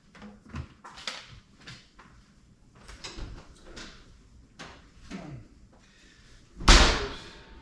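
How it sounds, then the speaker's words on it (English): A pan comes out of an oven with soft knocks and clatters, then a loud, sharp metal clank near the end, all close by. "we're going to get our pan out of the oven"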